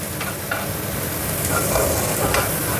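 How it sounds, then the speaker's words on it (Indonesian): Salted fish frying in a pan gives a loud, steady sizzle and crackle, close to the microphone, with faint stirring clicks and no talking. "Ini aku nekat teman-teman goreng iwak asin."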